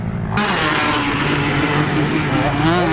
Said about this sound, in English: Tyler, you can hear the bike has that engine brake, so that means he's got to shift up a gear